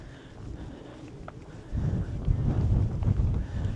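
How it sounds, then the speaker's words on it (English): Wind buffets the microphone at Wupatki National Monument in Arizona, a low rumbling gust that starts moderate and swells louder halfway through, continuing strongly to the end with no talk. "this is just windy"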